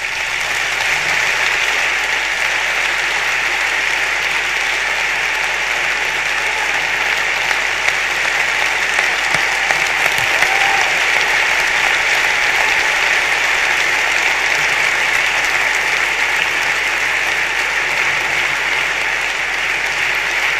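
Steady, loud audience applause at the close of a TED talk, a dense continuous wash of clapping that lasts about twenty seconds with no voices over it.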